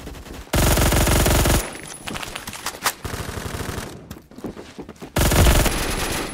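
Loud automatic fire from an M231 rifle in the video game Phantom Forces, two long sustained bursts of rapid shots, one opening the clip and one near the end, with scattered quieter gunfire and game noise between them.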